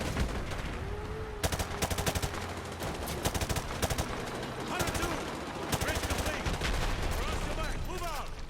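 Rapid bursts of automatic gunfire and single shots from soldiers in Call of Duty: Modern Warfare 2 Remastered, loud and nearly continuous with overlapping volleys and distant explosions, while a voice occasionally speaks over the battle.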